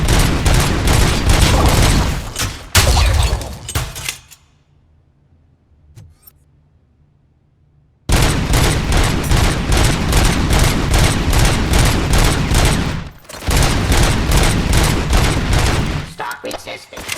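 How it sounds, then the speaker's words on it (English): Rapid gunfire bursts from RoboCop: Rogue City, loud and sustained, pausing into near silence for a few seconds before resuming as dense volleys. "Just keep shooting."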